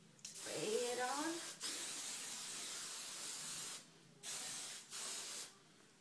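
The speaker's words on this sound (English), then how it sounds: "I'm going to take my hairspray, and I'm using Tresemme." Tresemme hairspray hisses from an aerosol can in several bursts, one long spray followed by shorter ones, close and loud, with a brief voice near the start.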